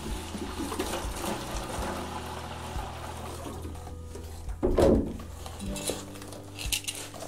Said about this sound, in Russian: Наливаю сначала необходимое количество воды.